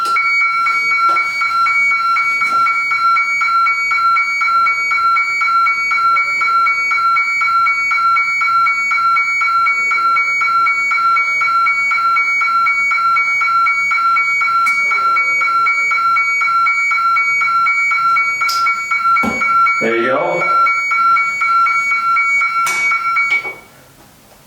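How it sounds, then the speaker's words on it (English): A FireAvert device on a gas stove plays a steady, high electronic tone that runs for about twenty seconds and then cuts off, with faint background noise and a few clicks beneath it. "push the button on top of this and it's going to play a unique sound, and that sound turns the stove back on"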